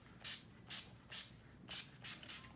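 Six short, hissing spritzes from a makeup setting spray bottle in quick, slightly uneven succession, close and fairly quiet, with no talking.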